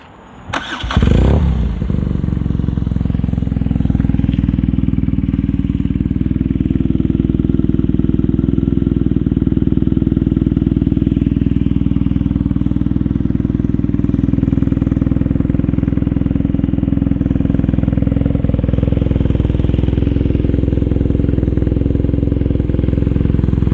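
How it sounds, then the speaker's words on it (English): A BMW R nineT motorcycle fitted with a Competition Werkes exhaust fires up and settles into a loud, steady idle, its deep throbbing engine note running close and uninterrupted with no talk. "Competition Werkes exhaust. Let's turn that thing on"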